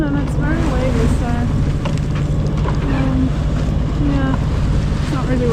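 A sailboat pitches on a wavy sea in light wind, with continuous wind rush on the microphone and water sloshing against the hull; a voice talks over it.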